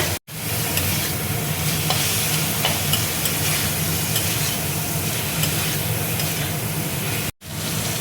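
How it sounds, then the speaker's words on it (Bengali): Spice masala with tomato and salt is stir-fried in a pan, a continuous close sizzle with light scraping of stirring, broken by two brief silent gaps at the start and near the end. "মশলাটা দেখো ভালো করে কষিয়ে নেব"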